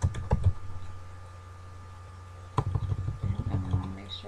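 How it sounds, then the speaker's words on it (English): Someone types on a computer keyboard close by, with a few quick key clicks at the start, a pause, then a fresh run of tapping over a steady low hum. "Start typing in my assignment."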